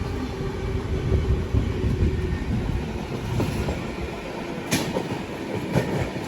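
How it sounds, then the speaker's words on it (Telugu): Train rolling through a crossover just past Baiyappanahalli station near Bangalore, heard from on board with a steady rumble and irregular wheel clicks, a sharp metallic hit near the end. "బయ్యప్పనహల్లి దాటగానే మనకి ఈ ట్రైన్తో క్రాస్ ఓవర్."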